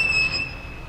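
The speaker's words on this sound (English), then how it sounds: "Is the train still being used?" Train passing in the game What Remains of Edith Finch, a brief rumbling rush with high steady squealing tones over it, close and moderately loud.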